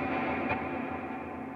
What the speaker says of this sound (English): So lots of reverb, lots of delay, it tails on for a while